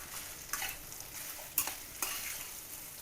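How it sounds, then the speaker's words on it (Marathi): Mustard seeds, asafoetida, chilli powder and turmeric sizzle in hot oil for tempering leftover rice and vegetables, a low steady hiss broken by a few sharp spoon scrapes and clinks against the pan. "आणि याला आता फोडणी देते."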